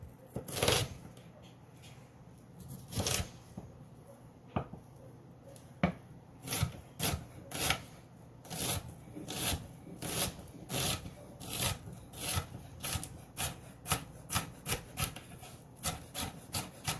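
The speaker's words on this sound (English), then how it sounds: "I'm going to just cut up the rest of this onion, or this half of an onion." Knife chopping half an onion on a cutting board, steady close thuds and scrapes repeating at a quickening rhythm, sparse then dense, alone without talk.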